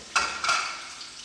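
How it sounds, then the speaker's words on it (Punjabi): Chopped onions tipped into hot oil in a home kitchen give two quick sizzling bursts, then a soft steady crackle that fades slightly, close by with no talking. "ਹੋਇਲ ਗਰਮ ਹੋ ਗਿਆ, ਪਿਆਜ਼ ਪਾ ਲੈਂਦੇ ਹਾਂ"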